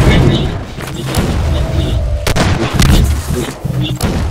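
Loud, booming gunfire from a Half-Life 2 Deathmatch match, with several heavy shots and impacts crowding together under an excited player's voice.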